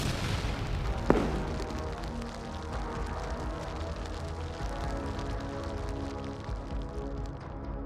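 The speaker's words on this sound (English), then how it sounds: "Seconds later, a powerful blast erupted, setting the vehicle ablaze." A tank explodes after a grenade is dropped into its turret: one sharp, close boom, then a dense, steady roar and crackle as the vehicle burns.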